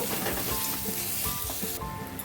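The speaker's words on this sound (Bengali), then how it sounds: "ভালো করে নাড়াচাড়া করব" Dry spices stirred into a hot pan for a fish cutlet mixture, a steady close sizzle with soft scraping strokes running throughout, no voices.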